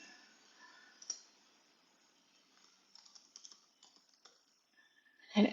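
Keys on a computer keyboard are typed during a security lab on IoT management: faint, sparse clicks in short irregular bursts over a quiet room, with a louder clatter at the end.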